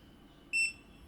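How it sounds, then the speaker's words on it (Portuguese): Two quick, high-pitched electronic beeps from a Moes smart switch sound back to back, short and clear against a quiet background. "Depois ele vai dar 2 bips."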